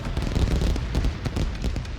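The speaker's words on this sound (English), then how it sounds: "We have fireworks." Fireworks go off in The Wandering Village, a rapid run of crackling pops and small bursts over a dense low rumble, steady and close for two seconds, with no voices.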